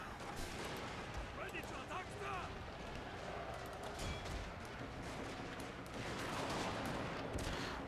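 Infantry gunfire in the video game Total War Shogun 2, sounding as dense, continuous crackling volleys under a steady battle din, with a voice talking over it part of the time.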